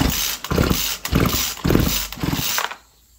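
A flooded chainsaw is pulled over and over but does not start. About five rhythmic starter-pull bursts each give a rough, sputtering engine rasp, close and loud, then the sound drops to quiet.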